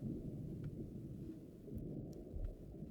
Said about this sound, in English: In real life, that was a close lightning strike, actually.